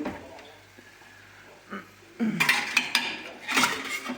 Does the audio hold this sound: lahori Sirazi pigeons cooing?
no